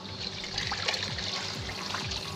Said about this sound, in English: I was going to tip out that dirty water.